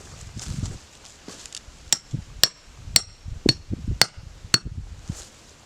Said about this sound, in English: so I'm going to hammer it back down.